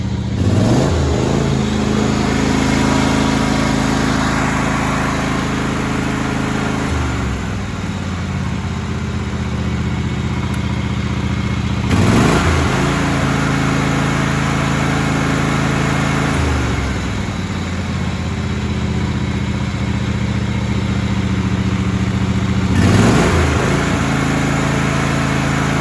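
A John Deere LX277 lawn tractor's engine running, a steady mid-pitched drone with low hum that rises in several distinct surges about every five seconds, close and loud with no talk.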